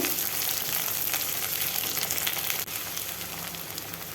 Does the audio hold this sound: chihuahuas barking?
no